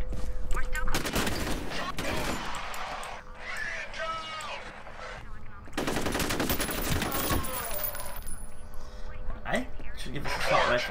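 Assault rifle fire in the shooter game F.E.A.R. rattles in sustained automatic bursts, loud and dense, with a break in the middle before a second burst, and other game sounds mixed in.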